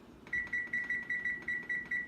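An oven kitchen timer in a home kitchen beeps nine times in a quick even rhythm while being set to cook salmon, each short high electronic tone close and clear over faint room noise.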